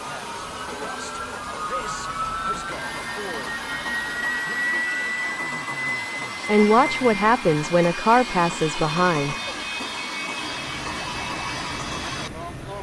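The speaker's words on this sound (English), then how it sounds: "Let's monitor the power of the engine as it works." A large turbofan jet aircraft engine runs with a steady, loud roar and a rising whine, while someone talks over it partway through.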